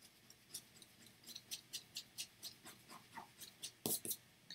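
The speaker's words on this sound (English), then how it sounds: "So what I'm going to do is get an eraser and just adjust it just slightly." An eraser rubs across a pencil drawing on paper in a quick series of soft, rhythmic back-and-forth strokes, heard close and quiet with no talk.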